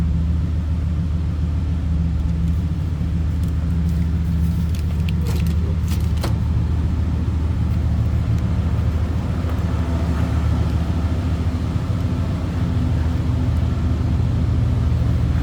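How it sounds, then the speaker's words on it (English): A 1975 Oldsmobile Cutlass Hurst/Olds W30 with a 455 V8 idles with a steady, deep rumble throughout, joined briefly by a few light metallic clinks. "Little rumble coming out of that 455."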